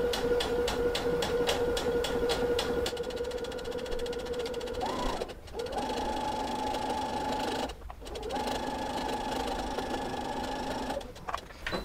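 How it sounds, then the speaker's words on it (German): A sewing machine runs steadily while topstitching a hem on a cushion cover with a hotel closure and piping, its fast motor hum and needle rattle continuing with two brief pauses, close and alone. "Und ich habe natürlich auch meinen Saum hier oben gesteppt."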